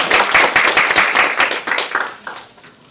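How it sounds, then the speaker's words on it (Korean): Audience applause at a parents' seminar, a short steady burst of clapping from a crowd that tapers off near the end, with no talk over it. "큰 박수 부탁드리겠습니다"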